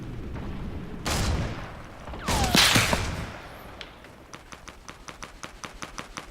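Gunfire in the video game Fortnite: two loud heavy blasts with a whooshing tail, followed by a quicker rhythmic string of lighter shots that fades slightly, no talking.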